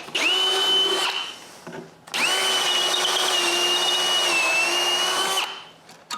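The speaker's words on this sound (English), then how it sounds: "I drill a hole in both pieces of plywood at the same time" A power drill bores through two stacked plywood pieces, whining steadily in a short first burst, then a longer sustained run, loud and close, ending abruptly.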